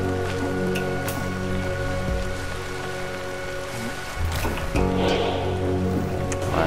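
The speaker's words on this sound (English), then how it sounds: "Really wish it would stop raining." Steady rain falls in the video game Ancestors: The Humankind Odyssey, a constant dense patter over a sustained musical drone, with some heavier splashes toward the end and no talking.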